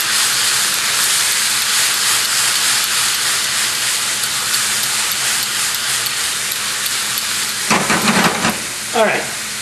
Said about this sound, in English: now I'm going to let the liquid, the vinegar and the liquid from the capers reduce just a little bit for about 2 or 3 minutes here until it reduces